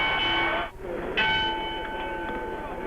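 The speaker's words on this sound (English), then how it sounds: "The bell for round 7." A boxing ring bell rings once, loud and sustained, to signal round 7 of a bout at the San Diego Sports Arena, sounding over crowd noise and a commentator's voice.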